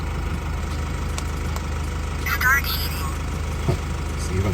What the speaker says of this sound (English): I know that you hear the van a lot, the engine